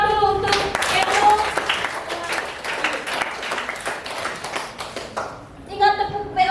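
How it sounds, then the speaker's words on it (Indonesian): A classroom of eighth-grade students claps together for a classmate, a dense burst of group applause lasting several seconds, then giving way to a teacher's voice speaking. "Tepuk tangan dulu untuk Keno."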